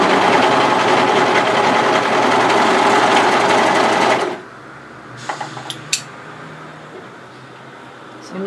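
An overlocker runs loud and close at a steady high-speed whir while sewing a hoodie seam, then stops abruptly about halfway through, leaving quiet room tone with a few light clicks and handling taps.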